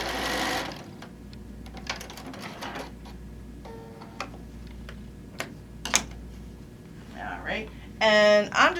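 Sewing machine stitching a quilt seam, a close mechanical whirring in short runs between pauses, with a quick rapid burst near the end and a person speaking lightly around it.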